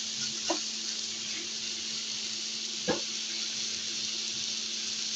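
Snake gourd and tomato frying in a pan at home make a steady, faint sizzling hiss, broken by two brief clinks or stirs partway through.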